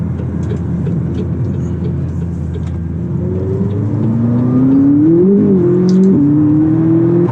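A McLaren sports car engine revs up close and loud, pitch climbing steadily as it accelerates, with a brief dip and rise mid-pull.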